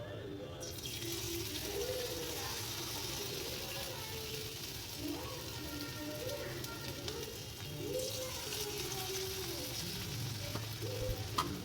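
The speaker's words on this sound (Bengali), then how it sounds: "সব পেঁয়াজিগুলো একে একে ছেড়ে দিলাম" Onion fritters (peyaji) made with salt, turmeric and onion, dropped one by one into hot oil in a village kitchen, giving a steady close sizzle of deep frying with faint speech-like sounds over it.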